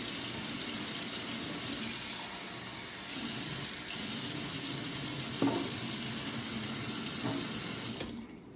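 Water streams steadily into a cooking pot with a continuous splashing rush, then a brief pause and another short pour before it stops.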